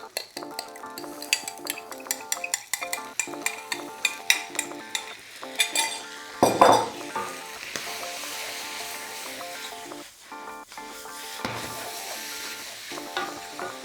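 Noodles being stir-fried with tamarind paste sauce in a wok, close and busy: steady sizzle and frying hiss with repeated metal clanks and scrapes of utensils against the pan throughout.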